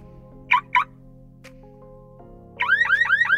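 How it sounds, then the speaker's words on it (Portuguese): Car alarm sound effect from the CapCut editing app: two short electronic chirps, then a loud rising, repeating siren wail that starts partway through, with no voices. "Eu tenho um som de alarme aqui no meu CapCut, olha só."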